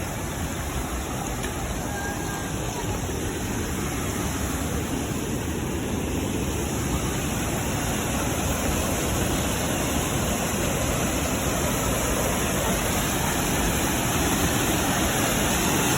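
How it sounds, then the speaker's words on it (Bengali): A waterfall on the Tarapheni River in Belpahari roars in a constant, dense wash of rushing water that holds steady throughout, with no voices over it. "দূর থেকে আবার শোনা যাচ্ছে হুহু শব্দে জল পড়ছে ফলসের"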